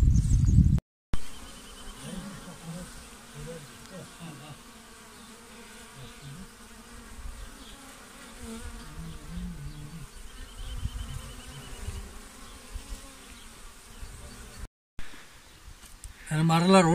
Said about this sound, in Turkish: Benim arılar orada bak. Arkada.